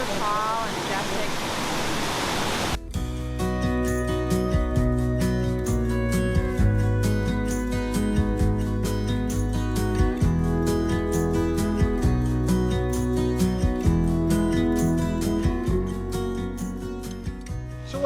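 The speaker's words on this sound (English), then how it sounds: "One of our best waterfalls yet" A tall, majestic waterfall along the Blue Ridge Parkway roars in a steady broadband rush, loud and close, continuing unbroken; a brief burst of voices precedes the water's full roar.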